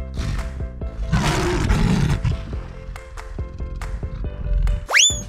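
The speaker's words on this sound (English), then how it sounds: "Lion." A lion roaring, a deep rumbling roar with a strong growling swell in the middle of the clip, preceded and followed by softer thuds and cartoon-like sound effects, ending with a rising whistle.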